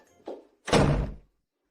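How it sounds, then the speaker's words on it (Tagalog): A door swings shut with a solid thump after a lighter knock or bump, one loud close near the listener, with no voices. "Isara mo ang pinto."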